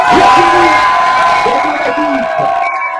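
Crowd at a Tour de l'Avenir cycling stage finish in La Gacilly cheers and whoops loudly and steadily, with a sustained roar, scattered shouts and a whistle-like tone running through it.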